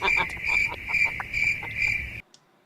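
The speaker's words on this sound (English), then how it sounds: "all I'm hearing is crickets." A cricket sound effect plays, a steady shrill chirping trill pulsing several times in quick rhythm before cutting off abruptly into silence.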